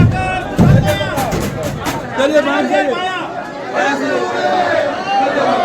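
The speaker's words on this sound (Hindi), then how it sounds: "ये देखिए कितनी भीड़ है यहाँ पर" A dense crowd of pilgrims at Baidyanath Dham temple fills the space with loud, continuous chatter and overlapping voices, close and busy throughout.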